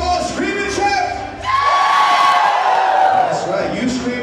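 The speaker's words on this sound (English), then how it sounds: "Did any of you all scream and shout?" Wedding reception guests screaming and shouting together, a loud burst of crowd yells and whoops that rises after a brief dip and stays strong, with an announcer's voice heard before it.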